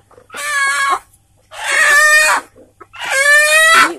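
Free-range village chickens on a farm call out in three loud, close bursts of clucking and crowing, separated by short pauses.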